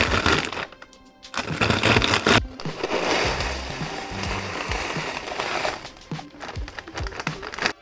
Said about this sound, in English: And our last cookie to be crushed here.